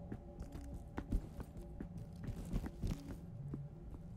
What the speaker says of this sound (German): überall höre Schritte, ey